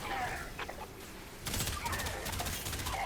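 Rapid video game gunfire from a Thornback weapon: bursts of quick repeated shots, loud and close, over a busy background with faint earlier pops.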